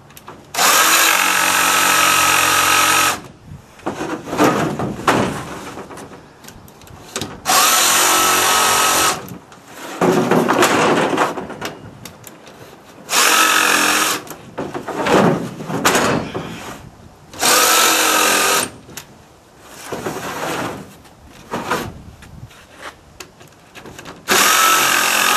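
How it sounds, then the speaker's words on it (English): A jigsaw finishes the corners of a cutout while a window AC unit is being installed, several loud buzzing bursts of a few seconds each with brief pauses between, close and alone. "you take your jigsaw and just finish up the corners"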